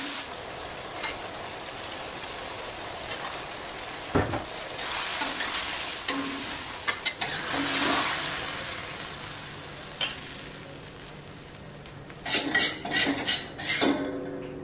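Layang scad fish cook in sambal balado in a pan, giving a steady low sizzle with intermittent scraping and stirring, occasional utensil clinks and a thump, growing busier with clattering toward the end.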